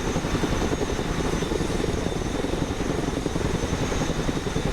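A helicopter in the military strategy game Broken Arrow, picking up troops. Its rotor and engine drone stays loud and steady with a fast chopping pulse and carries through the whole stretch without any voices.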